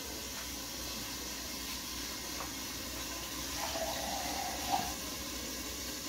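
A little water runs from a tap into a frying pan in a home kitchen, a soft steady hiss and trickle with a brief gentle splash and sizzle toward the end, no speech.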